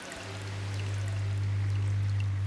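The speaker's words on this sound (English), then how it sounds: "That's the sound of the filter working." An aquarium filter picked up underwater by a hydrophone gives a steady low hum with a soft watery rush and bubbling on top, continuous and close throughout.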